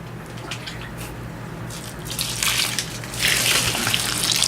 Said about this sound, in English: So we probably add a little bit more water here.